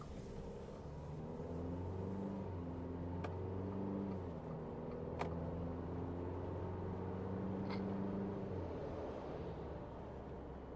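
A JAC T9 2.0L diesel 4x4 pickup truck accelerates, heard from inside the cab as a steady low engine drone whose pitch climbs in stages, with faint clicks over the rumble and no voices.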